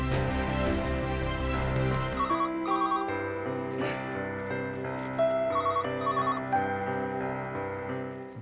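A telephone rings in repeated electronic bursts over steady background music, the trilling tones recurring several times.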